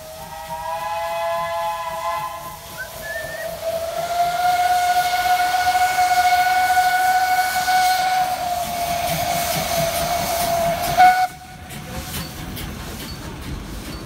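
A Swiss steam train on the DVZO heritage railway in the Zurich Oberland sounds a long steady whistle that rises in pitch and holds for several seconds over hissing steam and running noise, then gives a short final blast.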